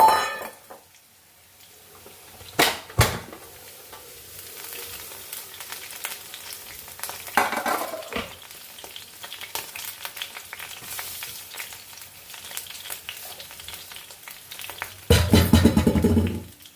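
Onions frying in a pan for an anchovy (nethili) dish, a steady sizzle running throughout with occasional sharp scrapes and stirring clatters, louder bursts near the start and end, no talking.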